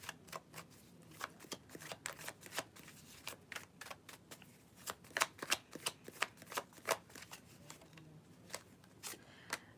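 A deck of tarot cards is shuffled by hand close up, making a quiet run of rapid, uneven riffling snaps and flicks that goes on throughout.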